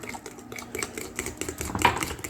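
Cooking oil being stirred into red velvet cake batter in a bowl, giving a steady run of soft clinks and scraping taps from a utensil against the bowl, close and moderately quiet, with no talk.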